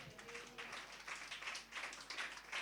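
Church congregation clapping during a Sunday service, a dense, fairly faint patter of many hands that swells in waves across the whole stretch, with no voices over it.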